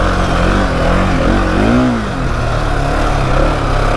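Husqvarna 701 Enduro motorcycle engine running loud and close in steady off-road riding, with one brief rise in revs midway and no voices.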